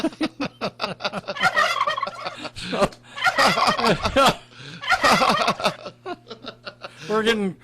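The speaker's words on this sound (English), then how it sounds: "The turkeys have joined us." Turkeys gobble in loud, rapid rattling bursts close by, repeated through the whole span, with people talking and laughing between them.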